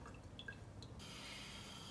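Freshly rinsed rice in a kitchen sheds its water with a quiet trickle and a few light drips, then a faint steady flow of running water sets in, all close and low in level.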